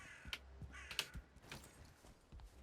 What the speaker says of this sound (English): You can hear like a million crows in the forest.